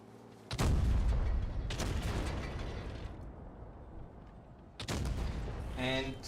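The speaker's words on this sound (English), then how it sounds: "3 shots out of 3 going for the T57 Heavy" Tank guns in World of Tanks fire three loud, close booms spaced a second or more apart, each trailing into rumbling decay over steady battle noise.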